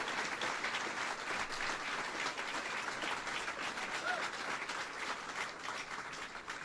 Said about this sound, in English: please give him a big round of applause as well.